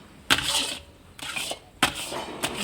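A metal spoon scrapes and knocks against a kadhai while thick khoya mixture for barfi is stirred, giving four distinct scraping strokes with sharp clinks at their starts, close by and with no talking.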